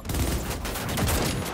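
Sustained gunfire in a Cyberpunk 2077 firefight, a dense, loud barrage of rapid shots and bursts that runs unbroken across the whole moment.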